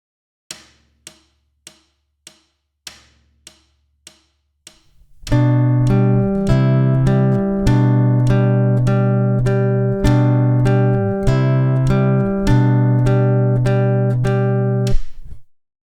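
Fernando Sor's Andante, Opus 35 No. 1, played fingerstyle on guitar at an even volume, opens with a few sparse plucked count-in notes and then moves into sustained arpeggiated chords with a clear bass line, close and solo.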